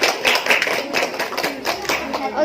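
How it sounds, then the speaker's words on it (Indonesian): A small group claps for a quiz team at a school math competition in a classroom, quick irregular hand claps close by, with a voice speaking briefly among them. "Beri tepuk tangan dulu untuk pejuang 30 juz."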